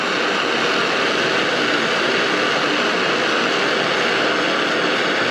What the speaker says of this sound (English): we're going to go ahead and anneal him with a blowtorch